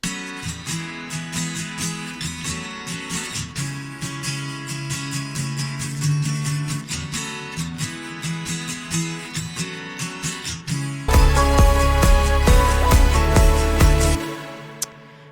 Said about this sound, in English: So the guitars that we use here are some more acoustic guitars.